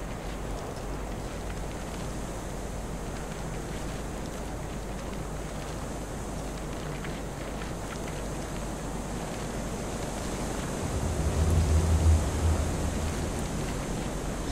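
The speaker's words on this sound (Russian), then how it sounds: "Слышу ветер, не вижу, где он, да?" Wind in the snowy cursed-forest horror game Kholat, a steady broad hollow rush that swells and deepens briefly near the end, with no talking.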